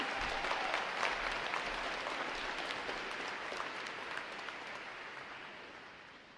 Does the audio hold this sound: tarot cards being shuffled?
no